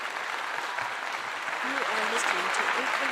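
Applause-like clapping bursts rise under steady talking voices, a broad wash of hand claps running through a short stretch of livestream chatter rather than standing alone.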